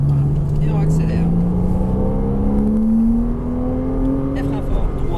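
Porsche Cayman S with a 3.4-litre engine accelerating during a driving session, a loud steady engine note climbing smoothly in pitch over about four seconds, heard from inside the car, with a brief voice near the end.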